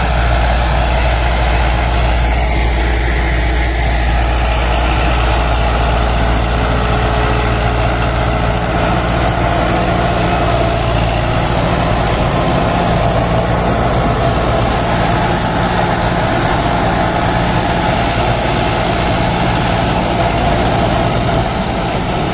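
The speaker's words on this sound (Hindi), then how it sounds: "होर किसी कंपनी का सुपर सीडर 8 फुटा पा के इस ट्रैक्टर मगर चलावे तो देखांगे भी किहो जी परफॉर्मेंस दिंदा" Standard DI 460 tractor with 18 gears pulling an 8-foot super seeder, its engine a loud, steady low drone that holds without a break throughout.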